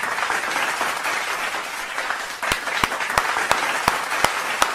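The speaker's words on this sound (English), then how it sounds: "Round of applause to you." Recorded applause on a live music review show, a steady wash of crowd clapping with several sharp, louder individual claps standing out in the second half, heard alone.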